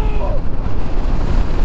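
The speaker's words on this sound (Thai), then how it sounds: "โอ้โหลมแรงมากทุกคน" Strong gusty afternoon wind at Amata City in Chonburi roars steadily against the microphone, a loud continuous low rumble with no break.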